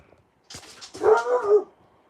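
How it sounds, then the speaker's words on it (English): A dog lets out a short yip followed by drawn-out whimpering whines, close and fairly loud in an otherwise quiet room, lasting about a second. "Excuse my dog."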